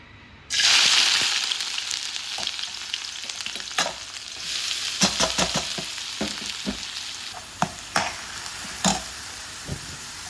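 Onions frying in hot oil in a home kitchen pan, a steady loud sizzle broken by scattered sharp crackles and stirring clatters, close up with no talking.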